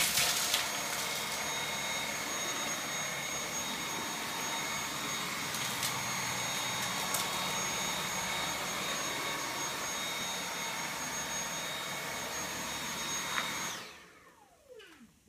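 A Dyson V8 Absolute cordless stick vacuum with the hard floor head runs on an indoor floor, a loud steady whine with a high tone that holds for most of the clip before the motor spins down and stops.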